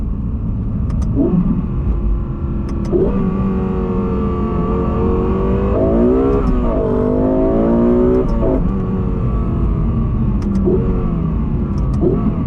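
A Lexus LFA sports car engine roars from inside the cabin, revs climbing and dropping repeatedly with each gear shift, loud and continuous throughout.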